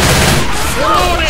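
Rapid gunfire from the zombie shooter Left 4 Dead 2, a dense continuous burst of shots filling the short moment, with a voice talking over it.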